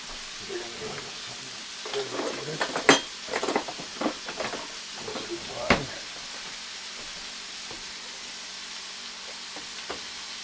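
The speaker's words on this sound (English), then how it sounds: "there goes the spaghetti. It's only going to take 2 or 3 minutes. And stir that around." Spaghetti being stirred in a pot on a home stovetop, with soft scraping and clinking clicks scattered over a quiet, faint hiss, a few sharper knocks mid-clip then mostly stillness.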